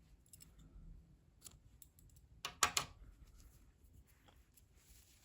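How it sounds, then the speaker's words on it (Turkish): Scissors cut white crochet yarn in two quick close snips in a quiet room, with a few faint taps and handling sounds before and after. "Beyaz renk ipliği kesiyorum"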